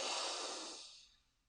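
A single deep, breathy exhale during a relaxation exercise, loud and airy at first, then fading smoothly into near silence over about a second.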